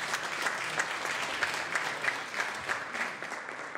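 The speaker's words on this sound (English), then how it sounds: "a round of applause, please, for our distinguished guests" Applause on a state senate floor for distinguished guests, a sustained even patter of many hands clapping, moderately distant and fairly quiet.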